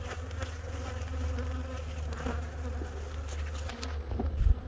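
Honey bees of an Italian and Nigerian cross buzz at a hive in Western Australia, making a dense, continuous drone close by that swells slightly toward the end.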